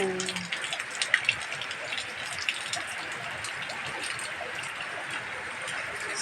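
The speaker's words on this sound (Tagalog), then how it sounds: "Ayan na guys, so lakas ang ulan." Heavy rain roars steadily amid strong wind, a thick wash of falling water with a few sharper splashes near the start.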